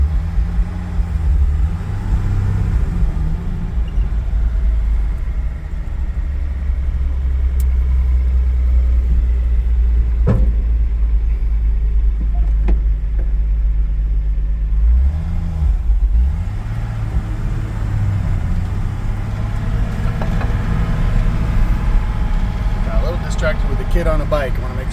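A 1964 Ford F100 truck engine runs steadily at a low idle throughout, with slight revs and a brief dip as the gears are shifted through first, reverse, second and third; someone talks over the engine.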